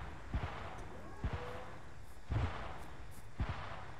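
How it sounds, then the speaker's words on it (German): Four sharp, booming gunshots in the ArmA 3 video game, Stargate scenario at the Alpha base, spaced irregularly over steady background ambience, sounding fairly distant with a low thump to each shot. "Waren das gerade Schüsse?"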